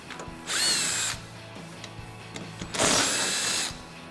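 Power driver spinning out T40 Torx screws on a Jeep Wrangler JK windshield area, two distinct whirring bursts of about half a second and one second, close up over a quiet background.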